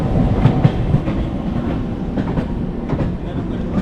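A local train in Chennai rolls along the tracks with rhythmic clickety-clack wheel beats over a steady low rumble, heard from inside the carriage.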